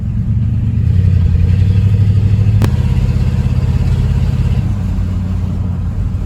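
A 1972 Ford F-100 truck that sat unused for a long time accelerates from inside the cab, its engine droning loudly and steadily with a rising, pulsing rumble.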